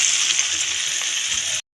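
Eggplant pieces sizzle and hiss steadily in hot oil in a pan along with chopped chili, a close continuous frying crackle that cuts off abruptly near the end.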